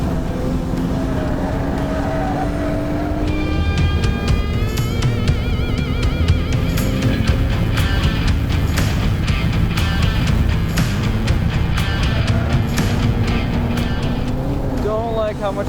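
A VW MK7 GTI lapping a race track, engine note rising and falling steadily through shifts with wind and road roar, traction control intervening, continuous and close throughout.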